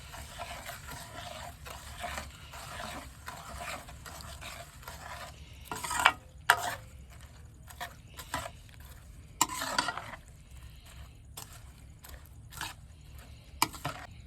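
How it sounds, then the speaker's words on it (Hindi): A spoon stirs a ground mixture for chicken haleem, giving irregular scraping and clinking strokes with louder bursts around the middle, fairly quiet and close, with no talking. "अब कुछ चम्मच की मदद से इसको अच्छे तरीके से हल कर लेते हैं।"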